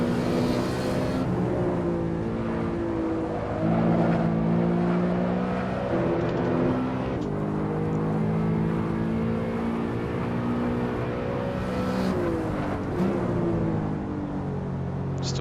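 A BMW E92 M3 V8 in Assetto Corsa drones and revs steadily through a hot lap, with repeated gear changes, lifts and rising pitch sweeps, loud and close with no talk.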